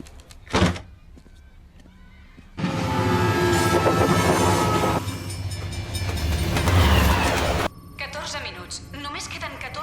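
A cartoon train rumbles past in a loud, sustained roar for several seconds, with a sharp knock just before it and quieter mechanical sounds after it stops.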